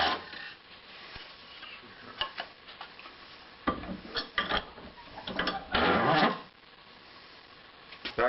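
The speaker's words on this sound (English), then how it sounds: "Back to my old spoke shave, which is a wonderful tool." A hand spokeshave planing wood while building a banjo: rough, rasping scrapes in several bursts, the longest and loudest strokes near the end, with quieter scratchy strokes between and no talking.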